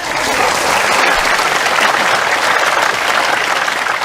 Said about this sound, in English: All right, you don't have to always clap like this.